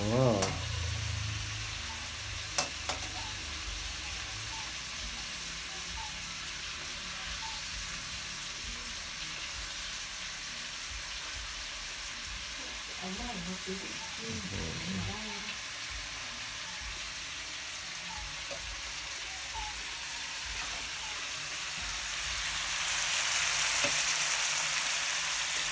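Slices of pork belly frying in a pan as a chef tosses them, a steady loud sizzle running throughout, with people talking over it and a brief metallic clank of the pan.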